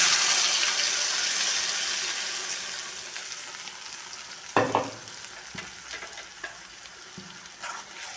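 Onions and masala fry in hot oil in a pan for a fish head sambar, a steady close hiss that gradually fades, broken near the end by several sharp clanks and scrapes of stirring.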